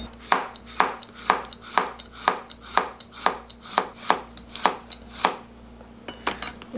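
A knife julienning zucchini strikes a cutting board in a steady, even rhythm of about fourteen crisp, close chops, ending in a few quicker, lighter taps.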